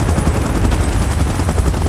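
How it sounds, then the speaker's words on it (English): Helicopter in the PUBG video game: a loud, continuous rotor whir and engine roar that fills the whole moment without letup, with no voices. "Chopper in position."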